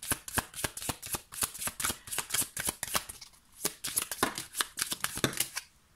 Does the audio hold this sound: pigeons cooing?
no